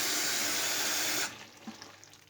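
Tap water runs steadily at a sink as fresh purslane is washed, a loud broadband rush that cuts off abruptly partway through, leaving quiet room tone with a few small knocks.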